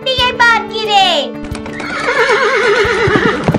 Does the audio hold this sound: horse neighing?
yes